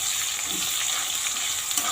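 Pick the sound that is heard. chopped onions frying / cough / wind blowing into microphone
chopped onions frying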